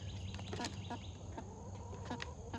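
Light Brahma hens give soft, scattered clucks and short calls over steady barnyard hum, with a few brief chirps from other birds nearby.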